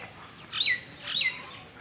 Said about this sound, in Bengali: ওই তো কত পাখি এসছে দেখ।